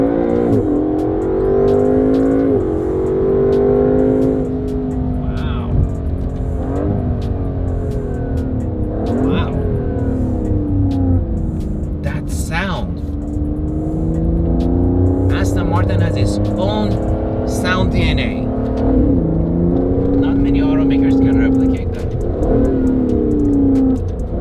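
Aston Martin DBS Superleggera accelerating hard, its engine note climbing and dropping through gear changes in rising sweeps, loud and close for the whole stretch, with people talking over it.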